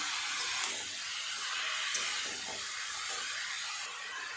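Ash gourd and potato with spices sizzling and frying in a pan, a steady soft hiss throughout with faint stirring scrapes underneath.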